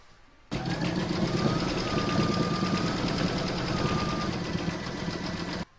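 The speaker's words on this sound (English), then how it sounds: "we're going to stitch round number 11, and that's going to do the decorative satin stitch around the centre circle here" Embroidery machine sewing a decorative satin stitch around a centre circle on a canning jar cover, a steady close mechanical whir and rapid needle rattle that starts abruptly and stops abruptly after about five seconds.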